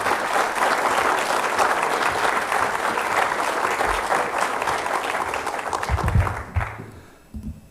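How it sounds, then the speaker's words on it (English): Sustained audience applause fills a hall at New College of Florida, steady and dense, as a crowd welcomes a lecturer to the stage, then fades out near the end with a few low thumps and footsteps. "Please give a warm round of applause"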